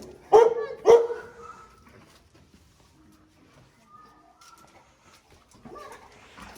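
Two sharp, loud barks from Stella, a jumpy, mouthy dog on a leash, come early and close, followed by quiet shuffling and someone speaking softly near the end.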